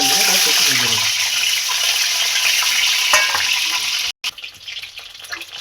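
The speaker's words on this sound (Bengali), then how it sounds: "তেল ভাজার জন্য তেলটা আমার গরম হয়ে গেছে, এবার সব ডিমগুলো আমি ভেজে নেব" Eggs fry in hot oil in a pan, a bright continuous sizzle with crackling spatter that eases after the first second, then a brief cut and quieter sizzling.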